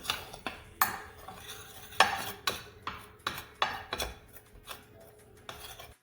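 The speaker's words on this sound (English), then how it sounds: "Okay, just give it a quick mix." Paprika and other spices for a copycat hot chicken recipe get a quick mix in a bowl, with soft, rapid spoon scrapes and light clinks in an uneven rhythm, fairly quiet and close, with no voices.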